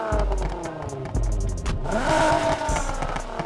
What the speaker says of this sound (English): we're gonna start off this time with the exhaust sound.